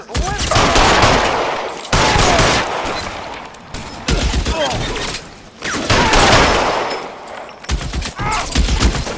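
Gunfire in a shootout in the L.A. Noire video game, with loud, dense bursts of rapid shots repeating in several volleys across the scene, separated by brief pauses.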